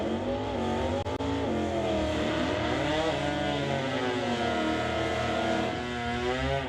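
Stock and Super Stock class drag race cars roar at NHRA qualifying at a Northwest Class Racer event, with loud, sustained engine revving that rises and falls in pitch as they stage and launch.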